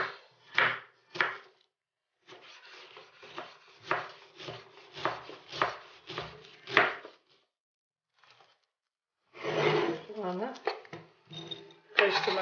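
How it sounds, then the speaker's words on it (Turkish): A knife finely chops a dry onion on a board, a run of quick rhythmic close taps with a short pause, then a denser burst of cutting, while someone talks over part of it. "1 adet kuru soğanımız var. İnce doğruyoruz."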